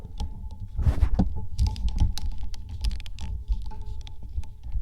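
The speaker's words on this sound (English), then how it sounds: "Got to click all the right buttons." Computer keys and buttons clicked in quick irregular bursts, close and fairly crisp, with a brief rustling handling noise early on and a low background hum throughout.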